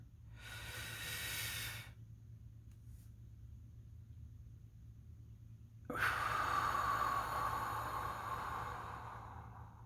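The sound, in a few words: slow deep breath in and out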